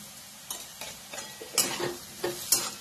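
Onion and turmeric frying in a pan of green bottle gourd bhaji, stirred with a spoon in a series of distinct scrapes and clinks about every half second over a quiet low sizzle.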